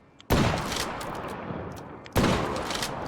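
Two loud video game gunshots, the first just after the start and the second about two seconds later, each followed by a long ringing reverberant tail.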